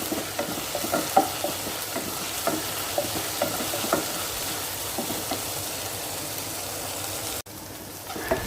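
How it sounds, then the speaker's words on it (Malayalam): Okra sautés with salt in a hot pan, a steady close sizzle with occasional light stirring taps running throughout, cut off abruptly near the end before quieter frying continues. "വെണ്ടയ്ക്ക വഴറ്റി കൊടുക്കാനായിട്ട് ഇനി അതിലേക്ക് കുറച്ച് ഉപ്പിട്ട് കൊടുക്കാം അപ്പോൾ വേഗം വെണ്ടയ്ക്കൊക്കെ വഴന്ന് കിട്ടും"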